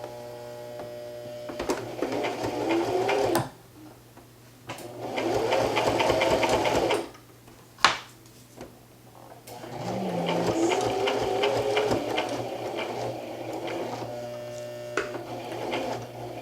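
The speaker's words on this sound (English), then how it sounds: "If you've ever had to make a quilt all by hand, you will realize that the sewing machine" A sewing machine stitches a rag quilt in three bursts of rapid mechanical whirring, separated by short pauses, over a constant low mains hum, close by.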